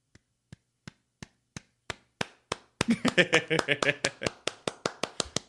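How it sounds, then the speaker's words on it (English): A lone person claps slowly at first, with single crisp claps spaced apart. The claps then speed up and thicken as more hands join, building into a brief close burst of applause. A voice can be heard faintly underneath. "That was the first time you've given me the clap today."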